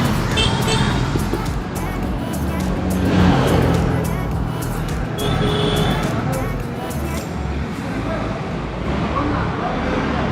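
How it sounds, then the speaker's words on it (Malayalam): A car rolls into an automated car wash shop near Sarovaram in Calicut, its steady engine and road rumble filling the scene continuously with people talking over it. "അപ്പോൾ അതിനായിട്ട് വണ്ടി ഇവിടെ കൊണ്ടുവന്നിരിക്കുകയാണ്."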